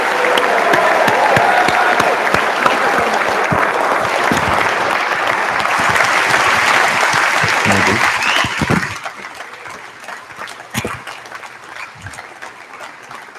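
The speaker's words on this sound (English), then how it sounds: "let's hear a big round of applause for all of those graduates" A crowd at a graduation ceremony gives the graduates a loud, sustained round of applause for about nine seconds, then the clapping thins out to a few scattered claps and quiet room sound.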